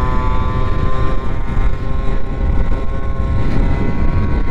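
Homemade offroad lawn mower tractor running flat out at top speed, a loud, steady engine drone with strong harmonic whine and constant rumble, close and continuous, with wind buffeting over it and no talking.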